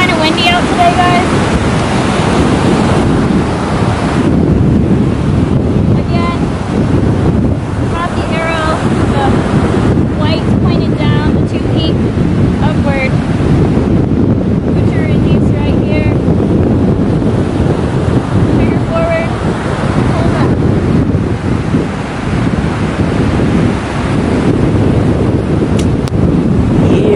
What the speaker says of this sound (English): I'm gonna move a little forward just because it's kind of windy out today